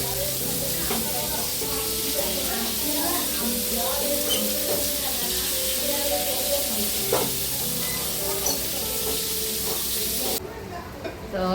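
Marinated turmeric chicken sizzles loudly on a hot tava, a dense continuous hiss and crackle with occasional stirring noises, under a voice talking, before the sizzle cuts off abruptly near the end.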